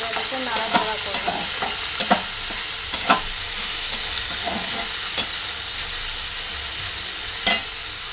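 Chilies and leaves stir-fried in a pan give a steady, close sizzle of hot oil, with scattered scrapes and clinks of a utensil stirring through it; no voices.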